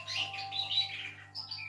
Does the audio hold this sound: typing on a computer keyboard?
no